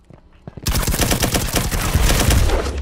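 Rapid bursts of automatic gunfire from a shooter video game erupt after a brief quiet start, loud and dense, continuing as a sustained volley.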